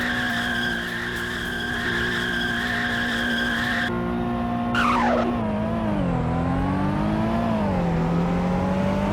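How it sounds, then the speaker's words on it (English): An Infiniti G37 in a driving video game doing a burnout, with loud, continuous tire squeal over a steady engine drone, the squeal dropping away partway through while the engine pitch dips and sways. "I can verify even the auto trims can in fact rip some burnouts"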